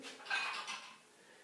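A blender is pulled out from among kitchenware, giving a brief, faint clatter and clink of dishes and utensils that fades within about a second.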